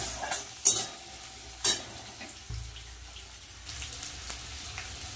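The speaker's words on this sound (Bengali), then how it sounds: "পেঁয়াজ আর রসুনটা একটু ভালো করে ভেজে নিয়ে তারপরে শাকটা দেব" Chopped onion and garlic fry in a pan with a low, steady sizzle and a few sharp clacks of a spatula against the pan, close and fairly quiet, with no talk.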